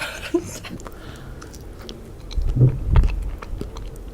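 Cream-filled mochi rice cakes being chewed close to the mic, with soft wet chewing and biting bursts growing louder toward the end and light laughter from two sisters around them.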